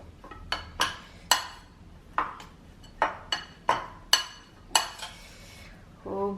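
Wai Wai instant noodle snack being mixed with taste maker seasoning in a bowl: a series of sharp clinks and scrapes from utensil against bowl, irregular and close, about ten distinct strikes.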